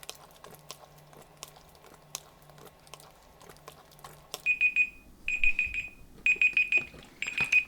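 A kitchen timer alarm goes off during home black-and-white film developing, giving loud, repeated high-pitched beeps in short bursts after a quieter stretch of faint tapping and handling sounds.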